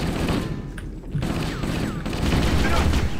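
Assault rifle in Halo: Combat Evolved firing at an Elite: a dense, continuous rattle of rapid automatic shots close up, lasting a few seconds with brief sci-fi weapon zips mixed in.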